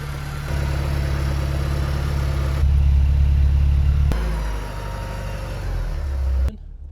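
A Porsche 944 engine idles steadily with a strong low rumble, its pitch stepping up briefly mid-clip before settling back, then cutting out near the end; no one talks over it.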